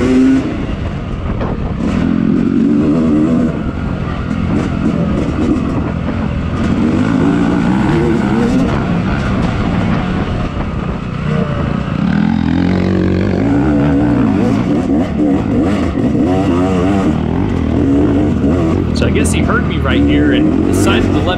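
Dirt bikes racing at a motocross scramble, engines revving and roaring loudly and continuously up close, rising and falling as riders accelerate, with a rider talking over the noise.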